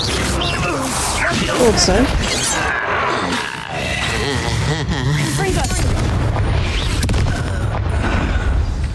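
The Confringo fire spell in Hogwarts Legacy bursts into loud, crackling explosions and rumbling booms that run through the whole stretch, layered with game effects while a voice talks over them.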